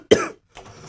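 A single sharp cough up close during play of the game Resident Evil 2, followed by a softer, rougher throaty rasp a moment later.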